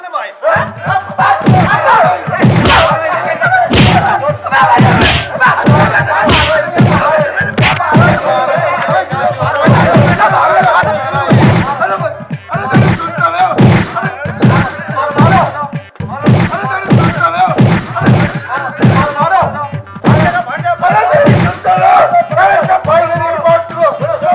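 A crowd shouts while catching and beating thieves in a rural village comedy scene, with repeated loud thuds and slams striking throughout amid dense, overlapping yelling voices.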